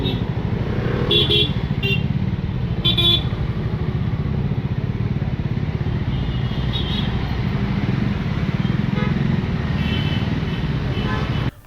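Heavy traffic jam on a road in Goa, with a constant rumble of car and motorcycle engines up close and several short horn toots breaking through now and then.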